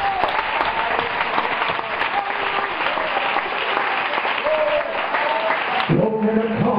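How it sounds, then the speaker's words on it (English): Church congregation at an apostolic service in Antigua applauding, a loud sustained clatter of many hands with scattered voices, ending with a burst of organ or music near the close. "Somebody clap your hands."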